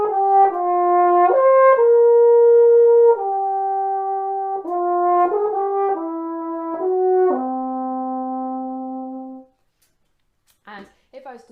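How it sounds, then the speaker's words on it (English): Trombone plays a short high-register melodic phrase, sustained notes moving in steps and ending on a long held tone, followed by a brief silence and faint talk. "So the trombone has a pretty impressive range of notes that it can play."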